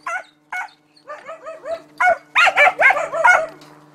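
West Siberian Laika puppies yapping and barking in quick, high-pitched bursts that grow denser and louder toward the end, heard close with no talking.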